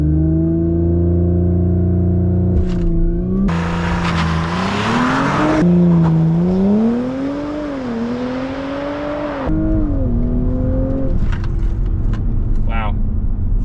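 An Audi B9.5 S4 with a Stage 1 tune accelerates hard on a 0 to 60 run, its engine tone rising steadily through the gears with brief shift breaks, loud and close from inside the car, with some voice noise.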